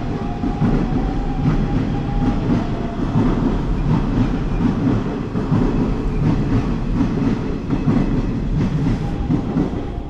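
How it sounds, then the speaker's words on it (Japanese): Kintetsu Nara Line train pulling into Yamato-Saidaiji station, a steady loud rumble of wheels and motors with rail clatter and a thin brief squeal, continuous for about ten seconds with no talking. "なんかもう一本また来ました、奈良線。"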